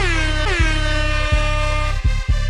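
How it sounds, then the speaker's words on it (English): Air horn sound effects blare in a loud, sustained blast, punctuated by several short stabs and repeated honks near the end. "We got a multitude of air horns on the way in"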